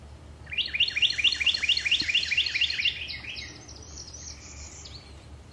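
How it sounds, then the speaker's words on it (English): A Carolina wren sings a rapid, ringing series of about a dozen repeated loud notes in Myakka State Park, Florida, then trails off into a softer, quieter phrase. "Carolina wren. See if I can spot them and get some video."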